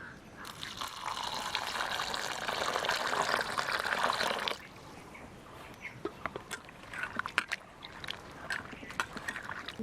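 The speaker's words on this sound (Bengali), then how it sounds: "জল দিয়ে আমি সবজিগুলো ধুয়ে নেব" Cut vegetables are rinsed under pouring water in a home kitchen, a steady close splashing rush for the first four and a half seconds, then quieter handling with scattered clicks and drips.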